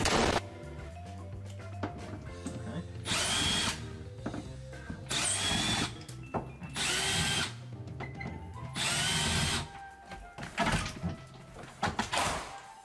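Power tool driving a non-impact socket and extension while stripping an ambulance, with repeated loud bursts of whirring and ratcheting separated by clanking and rattling in between.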